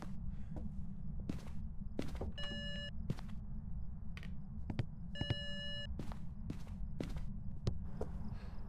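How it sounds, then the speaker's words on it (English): Ghost footsteps in the VR horror game Phasmophobia: a steady series of dull thumping steps, roughly one or two per second, with two short bursts of electronic beeping breaking in over a constant low rumble. "We have a footstep."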